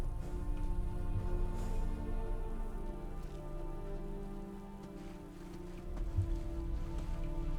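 Steady rain falls in a continuous wash of patter, with a low rumbling bed underneath and no voices, in the video game Skyrim.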